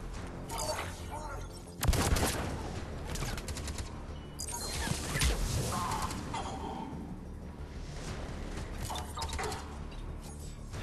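Gunfire in the video game Mass Effect 3, with bursts of shots and sharp cracks scattered through, some louder blasts near the start and middle, mixed with game ambience and faint background sounds.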